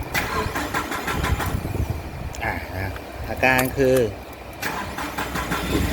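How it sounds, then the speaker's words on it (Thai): A car engine with an open-circuit throttle position sensor fault cranks and turns over, starting but unable to rev, with jangling and mechanical clatter, while someone talks over it close to the microphone. "เครื่องยนต์สตาร์ตติดนะ แต่เร่งไม่ได้นะครับ"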